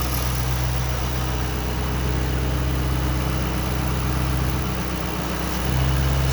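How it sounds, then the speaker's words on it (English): A 2005 Mustang GT Saleen sits idling nearby, a steady, loud low rumble holding even throughout with no talk, the tone shifting slightly in its last second. "just started up the Mustang Saleen so you can hear it running."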